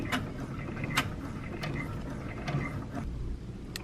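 A 6-needle embroidery machine stitches an appliqué tack-down, a steady close mechanical whir with regular sharp ticks and clacks from the needle action, no voices.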